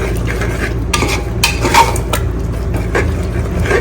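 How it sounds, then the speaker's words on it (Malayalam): Yogurt masala for a Palakkad-style chicken dum biryani is stirred in a pot, a steady, loud, close scraping and churning that runs over a constant background hum, with intermittent clinks from the utensil. "അത് നമ്മൾ ഇളക്കി സെറ്റാക്കുന്നു."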